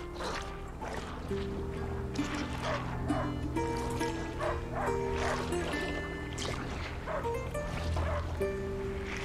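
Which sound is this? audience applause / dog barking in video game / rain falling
dog barking in video game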